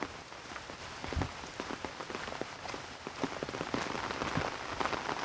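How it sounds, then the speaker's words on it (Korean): Heavy rain pours down outdoors in front of a well-known mineral spring in a rural Korean village, a dense, continuous hiss of drops striking surfaces, close and loud with no talking. "오, 비 많이 온다."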